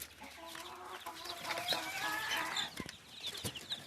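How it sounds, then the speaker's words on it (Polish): High-pitched cheeping from several few-days-old chicks, Dutch White Crested and Bulgarian bantam breeds, a busy overlapping chorus of peeps with some lower clucks mixed in, fairly close, in a henhouse. "To są parudniowe pisklaczki."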